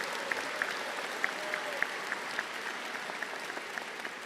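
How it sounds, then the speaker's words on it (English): Steady applause from a commencement audience at Salt Lake Community College, a dense even wash of clapping heard at a distance and moderately soft, with a few slightly sharper claps standing out. "Let's give them a round of applause for their contribution."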